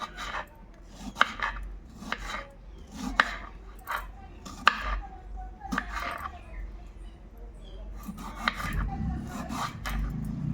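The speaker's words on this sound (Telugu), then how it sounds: "తర్వాత టమాటాలు కట్ చేసుకుంటున్నాను" A knife chops ripe tomatoes on a board in a series of crisp, uneven taps, with some scraping between the cuts. The cutting is close and clear.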